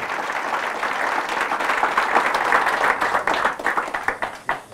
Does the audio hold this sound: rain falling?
no